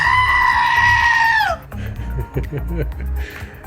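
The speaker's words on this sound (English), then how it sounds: "Hand feeding the goat." A goat being hand fed gives a loud, wavering bleat up close for over a second, followed by softer chewing, shuffling and low noises nearby.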